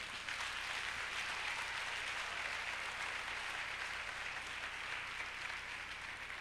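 A church congregation at a Sunday service applauding to praise God, a steady wash of many hands clapping together, moderately distant and even from start to finish, with no talk.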